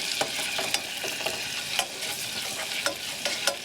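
Onions and garlic sizzling in a pan, stirred in a steady rhythm, with repeated scrapes and taps of the utensil over a constant frying hiss.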